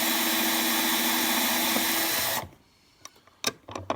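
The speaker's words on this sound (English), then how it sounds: "once you have a case that's too long, you drop it in your trimmer" A power case trimmer cuts a .223 Remington brass case to length, giving a loud, steady motor whine that stops abruptly partway through, followed by a few faint clicks and handling sounds.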